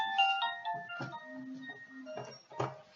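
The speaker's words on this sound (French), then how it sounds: "le téléphone qui sonne, alors je vais l'éloigner un petit peu" A telephone rings during a live indoor broadcast, giving a short melodic electronic tone pattern of bright notes that repeats in bursts, fairly close and clear over a quiet room.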